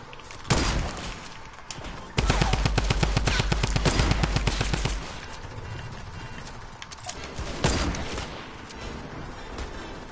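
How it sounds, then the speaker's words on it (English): Rapid gunfire bursts in a build-battle video game, a dense fast rattle of shots for a few seconds followed by scattered single cracks and impacts, loud and close with no talking. "Who's trying to shoot me, boy?"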